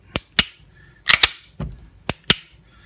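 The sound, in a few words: pistol trigger reset click on XDS with spring kit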